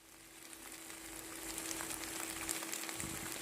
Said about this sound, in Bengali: সয়া সস দিয়ে আরও একটু নেড়েচেড়ে রান্না করতে হবে।